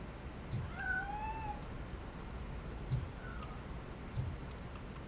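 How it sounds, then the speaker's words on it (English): A cat in the video game Robocop Rogue City, hiding indoors, gives several faint, drawn-out meows spread across the moment over a low steady background rumble, with no talking. "That cat must be hiding inside."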